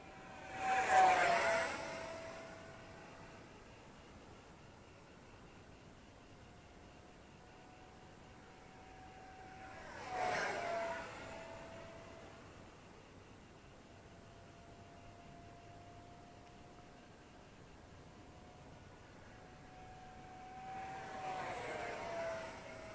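An Eachine F16 50mm EDF RC jet with a 550mm wingspan sweeps past in three separate passes, each swelling into a whooshing, whining roar and then fading as the throttle eases back, with quieter electric-fan hiss in between.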